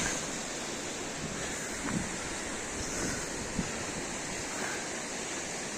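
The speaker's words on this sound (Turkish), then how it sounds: "Görüyorsunuz Karadeniz'in her yerinden su fışkırıyor." Water gushes and roars steadily at a waterfall in the Black Sea region, a dense continuous rush close by with wind buffeting the microphone and no speech.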